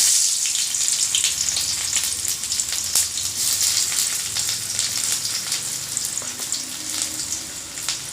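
Chopped onions fry in hot oil in a pan, a loud, dense, close sizzle with crackling spits and scraping stir sounds throughout, no voices.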